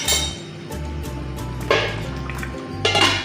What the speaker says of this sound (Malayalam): നമുക്ക് അടച്ചു വെച്ചെടുക്കാം.